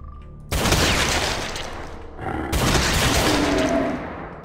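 Gunfire in Brutal Doom 64 on the Staging Area map, two long loud close barrages of shots, the first starting abruptly after a brief quiet moment.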